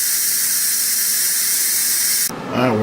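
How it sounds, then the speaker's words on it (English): Pressure cooker releasing steam after cooking Jamaican rice and peas, a loud continuous hiss that holds steady for over two seconds, then cuts off abruptly into a short squeal. "So let's go ahead and release the steam."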